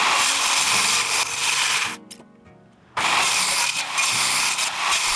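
A saw cuts notches into a timber beam, a loud, continuous rasping roar that stops for about a second with a brief pause and small knocks, then resumes just as strongly.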